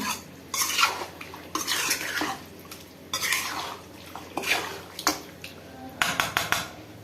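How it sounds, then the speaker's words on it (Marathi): A spoon scrapes and stirs marinated chicken for biryani in a metal pot, in repeated bursts with short pauses, close up and fairly loud. "चिकन घालणार आहे. मिक्स करून घेऊया."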